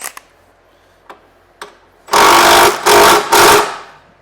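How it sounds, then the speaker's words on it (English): An impact wrench tightens engine mount bolts on a Honda Element or CR-V. A few light clicks are followed by three loud, close, rattling hammering bursts in quick succession. "right here, we can actually hit these with the impact."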